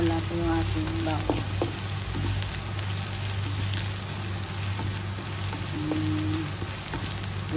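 Meat fries in a pan for adobong puti, a constant dense sizzle and crackle at steady volume with a low background hum and faint occasional stirring.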